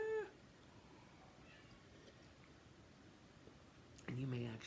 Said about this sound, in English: And you may actually hear Tear or see him pop up here. Kitty, kitty, kitty.